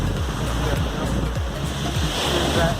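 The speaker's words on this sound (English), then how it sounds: "And the waves are quite big. They are really big." Big ocean waves break on Elliot's Beach in a steady, loud roar of surf with rolling low rumbles and some wind buffeting, with no voices over it.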